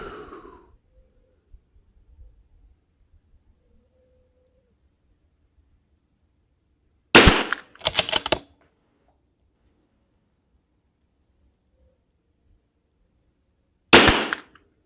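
CZ457 rimfire rifle firing on a range: three sharp, isolated cracks spaced apart over quiet background, the first two close together and the last several seconds later.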